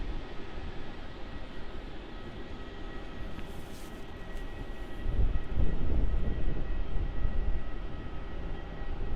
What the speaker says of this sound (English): the Air India tail AI309, which is going to be flying off to Delhi in about 5-10 minutes, depending on how long it takes to taxi up to runway 16